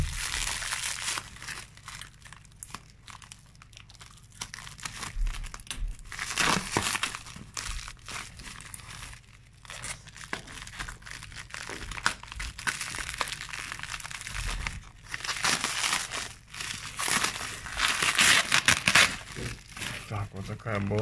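Foil packaging crinkles and crumples again and again as a box is unpacked, with uneven bursts of rustling that grow louder toward the end.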